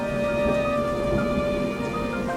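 Thunderstorm with steady heavy rain, a loud continuous wash of rainfall with low rumbling underneath and a sustained tonal hum running through it, no speech.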